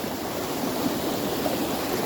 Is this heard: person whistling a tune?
no